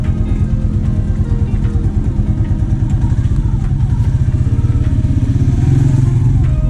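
A manual-transmission motorcycle engine runs with a loud, close, rapid throbbing putter that holds steady and swells slightly near the end, as the clutch is eased out.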